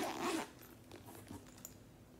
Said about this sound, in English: You have a zipper pocket on the front here.